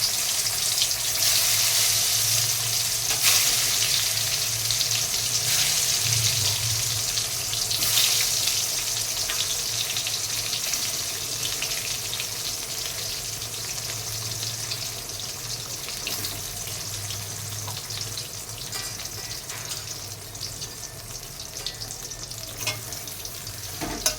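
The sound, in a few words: brinjal (eggplant) slices frying in a pan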